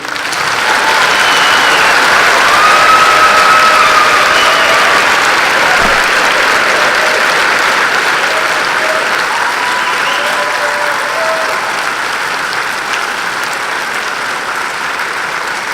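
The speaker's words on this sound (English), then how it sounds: "Ladies and gentlemen, please join me in applauding these fine young men and women." Loud, sustained applause from a large audience at a university hooding ceremony, a thick continuous wash of clapping with faint cheers mixed in, slowly easing in intensity.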